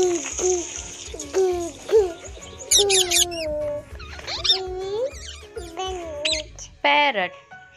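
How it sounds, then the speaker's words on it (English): Pigeon calls come as a run of short, repeated cooing and chirping bursts, fairly close and clear, spaced unevenly over several seconds with no speech. "pigeon."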